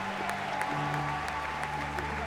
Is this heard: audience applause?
yes